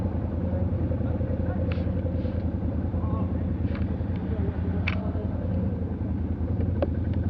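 A vehicle drives a rough track through the Ogre forests, its engine a steady, close low rumble throughout, with a few brief knocks and rattles from the body over the bumps.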